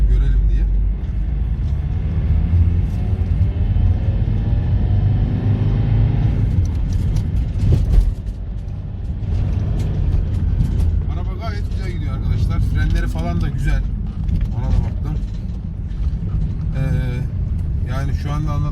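A Volkswagen Transporter van pulls away and speeds up, its engine a steady low rumble that swells beneath a driver talking throughout, heard from inside the cabin.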